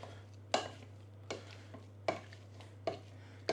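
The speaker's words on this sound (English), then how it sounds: "Let that melt for a couple of seconds, guys, and then start mashing away." Potatoes with melted butter for a fish pie are mashed by hand, giving about six evenly spaced, close squelching thumps over a low steady hum.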